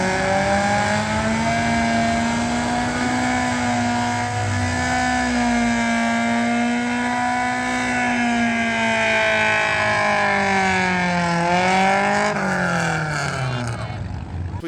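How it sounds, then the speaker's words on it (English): An old BMW doing burnouts at a night car show, its engine held at a loud sustained howl with tires spinning, pitch wavering up and down and climbing near the end, close and continuous throughout. "We saw an old BMW doing burnouts."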